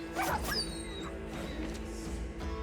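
A dog in the video game Battle Brothers whimpers as it dies, with short high yelps over a steady dense bed of game music and ambience.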